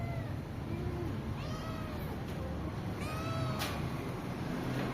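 On a street in Karachi, a cat lets out several rising-and-falling meows, some drawn out and whiny, over steady outdoor hiss and background noise.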